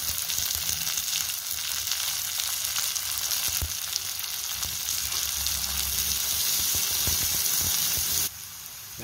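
Onions hit a hot pan already frying garlic and green chilli for mushroom pepper rice, giving a steady, close sizzle with bright crackling that runs continuously and drops slightly quieter near the end.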